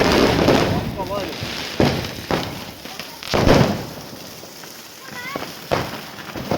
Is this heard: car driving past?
no